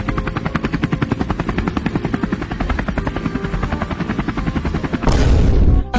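A helicopter's rotor thumps in a fast, loud, even rhythm among mountains, then a sudden rushing roar swells near the end.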